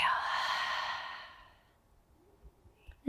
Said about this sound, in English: Take a full breath in through your nose and an open mouth exhale.